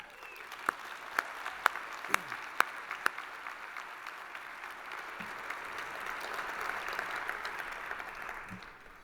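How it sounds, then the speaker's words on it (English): Guests at the Greenway dinner celebration applaud, a few sharp, close individual claps at first, then a broad, fairly soft wash of clapping from the room that builds and holds with faint crowd murmur underneath. "giving a hearty cheer to all of the good work and good people of the Greenway"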